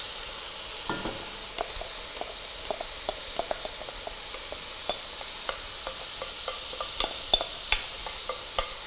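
Rice being stirred and toasted in a pan, with a steady soft sizzle broken by repeated light scraping and clicking strokes of a utensil throughout, close and fairly quiet.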